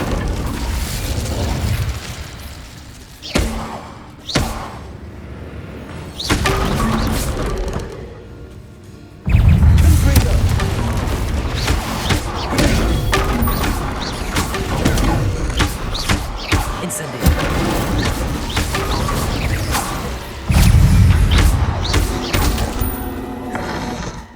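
Repeated Incendio fire spells cast in Hogwarts Legacy erupt as loud whooshing bursts and booms, coming in uneven clusters separated by brief lulls over a dense combat din.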